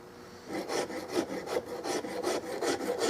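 Hand filing on a custom Turkish walnut gun stock for a Carl Stiegele 16-gauge shotgun, a close, steady rasping in rhythmic back-and-forth strokes, about ten passes with no talk.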